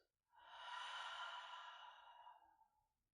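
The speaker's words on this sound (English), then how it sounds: "and an exhale out." A slow, deep exhale during gentle yoga breathing, one soft sustained breath swelling and tapering over a few seconds, close and quiet with nothing else around it.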